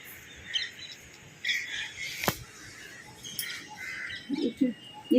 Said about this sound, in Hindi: मुझे चिड़ियों की आवाज़ बहुत प्यारी लगती है, बहुत सुंदर लगती है चिड़ियों की आवाज़